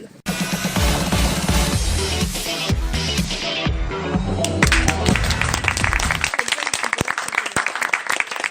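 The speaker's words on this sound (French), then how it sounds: "On n'a jamais eu autant d'applaudissements, je tiens à le souligner." Studio audience on a French television game show bursts into loud, sustained applause that swells and continues steadily, dense clapping close and full throughout.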